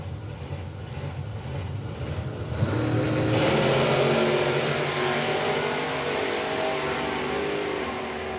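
Drag racing cars, including a supercharged big block Malibu, launch down both lanes of the strip; engines idle and rumble, then erupt into a loud, rising roar that sustains and slowly fades as they pull away.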